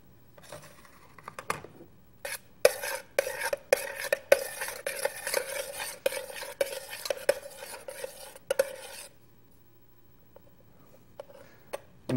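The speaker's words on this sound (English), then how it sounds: "take some ZOMG butter and blend it with the noodles." A spoon stirs ZOMG butter into hot boiled noodles in a pot, giving close, irregular clinks and scraping against the pot in bursts, then quieter occasional taps.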